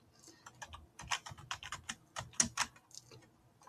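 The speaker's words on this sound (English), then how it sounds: "I'm just going to pause it while I type because I really am embarrassingly bad at typing." Someone types on a computer keyboard up close, producing a quick, uneven patter of clicking keystrokes with a few louder taps and no voices.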